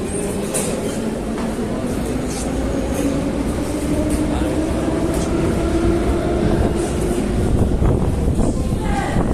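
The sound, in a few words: metro train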